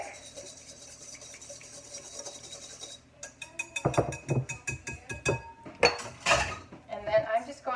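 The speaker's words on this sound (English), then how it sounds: "Now, I just take my whisk and I'm just gonna whisk that" A whisk scrapes and clinks against a bowl while honey is whisked for a balsamic honey sauce, quick irregular metallic taps and rasping strokes close up after a quieter start.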